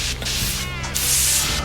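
Water spraying and rinsing over the body of a 1976 Ford F100 pickup, a steady close hiss with bursts that change in pitch as the stream shifts across the panels.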